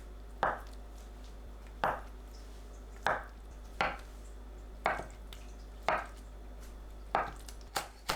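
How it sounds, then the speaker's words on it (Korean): Knife chopping tofu into bite-sized pieces on a cutting board for doenjang soup, seven or eight crisp, evenly spaced cuts about a second apart, close and clear over a quiet background. "두부를 한 입 크기로 썰어주세요."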